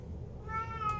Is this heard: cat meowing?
yes